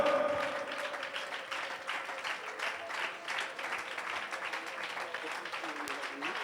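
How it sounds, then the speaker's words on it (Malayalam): A church congregation at a fasting prayer meeting claps in praise, a dense and steady rush of many hands from somewhat far off, with a voice speaking over it. "കൈയടിച്ച് സ്തുതിച്ചാട്ടെ, കൈയടിച്ച് സ്തുതിച്ചാട്ടെ"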